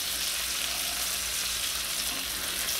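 Quail browning in a frying pan give off a steady, dense sizzle that holds even and close throughout, with no talking.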